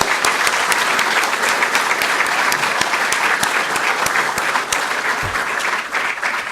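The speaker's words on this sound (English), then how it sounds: "I just want a round of applause for Peter" An audience at a documentary filmmakers' gathering applauds Peter with continuous, loud, dense clapping that holds steady throughout, with a few sharper individual claps standing out.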